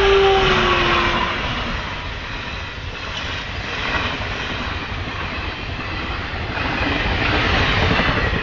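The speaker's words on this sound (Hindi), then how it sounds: "ये देखिए ट्रेन आ गई, ट्रेन आ रही है" A train passes a railway level crossing with the gate closed, producing a steady, loud broadband rumble and rolling noise that holds for the whole stretch, swelling slightly toward the end, with no talk over it.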